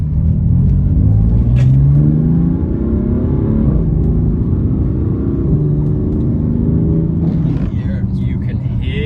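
Exhaust note of a 2015 BMW M4 Competition with a titanium exhaust, heard from inside the cabin under throttle as a deep, steady engine drone with rising and falling pitch sweeps, loud and continuous.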